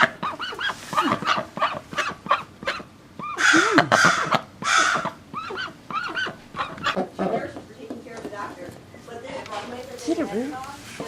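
Domestic duck honking in repeated loud calls alongside playful squeaks with a new toy on a pet bed, while a person talks over and between the honks.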